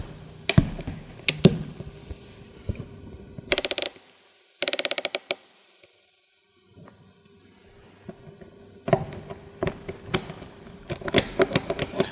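A lever crimping tool works on a feeder grounding clamp at an outdoor RBS 6000 installation, making sharp mechanical clicks and rapid ratcheting bursts up close, separated by quiet pauses as the lever moves down and up.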